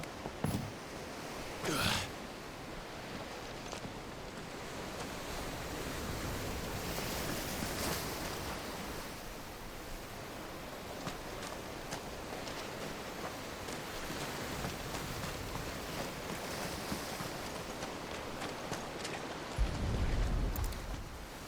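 Sea waves in the video game Final Fantasy XVI wash steadily for the whole stretch as a broad, even surf roar with occasional brighter splashes, and no voices over it.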